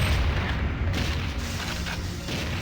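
A deep rumbling boom from gas containers being shot and exploding in the Nintendo 64 game Perfect Dark, a heavy, sustained low roar that stays loud throughout without any speech.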